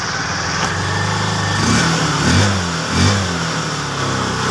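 A Honda TMX motorcycle engine, started without a key, runs close and loud, revved in three rising surges over a steady idle.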